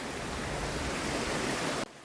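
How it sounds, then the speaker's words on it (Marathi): Monsoon waterfall crossed on a trek at Harishchandragad, a loud, dense, continuous rush of falling water close by that cuts off abruptly near the end. "वॉटरफॉल वगैरे पार करतोय बघा"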